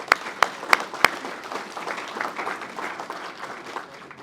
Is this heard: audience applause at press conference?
yes